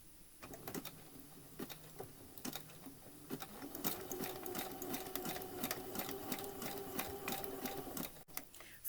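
A sewing machine stitches a scout patch with fine clear filament thread, running in short bursts of rapid, rhythmic needle clatter that settle into a longer continuous run, close and fairly quiet.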